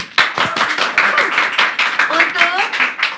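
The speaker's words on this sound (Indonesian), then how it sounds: "Beri tepuk tangan dulu" A studio audience claps for three guest stars on a talk show, a burst of hand claps that fades as a host keeps talking over it.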